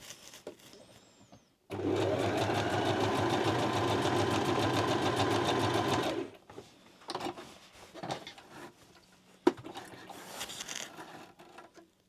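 A sewing machine stitches a Charm Patterns Monroe Dress, running in one steady, loud whirring burst of about four and a half seconds, followed by quieter handling noises and light clicks of fabric and machine parts.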